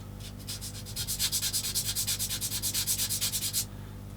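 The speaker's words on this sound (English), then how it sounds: "Okay, what I'm going to do is now sand that bit off as well." Rhythmic rasping strokes of sandpaper on a plastic part from a Takom 1/16 M10 IIC Achilles tank destroyer kit, about twenty quick even back-and-forth rubs, close and clear, stopping abruptly after a few seconds.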